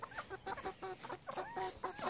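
Hens cluck and murmur on a hilltop farm in a quick, continuous series of soft calls, several birds close by and fairly quiet with no talking.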